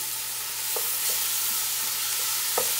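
Raw ground beef seasoned with salt sizzles steadily in a hot pot over high heat, with a few scraping stirs breaking through the constant frying hiss.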